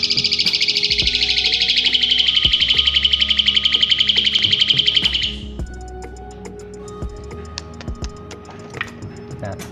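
Jalak suren, an Asian pied starling, gives a fast run of bright, rapid chirps and rattling calls up close for about five seconds, then drops to softer scattered clicks and faint noises.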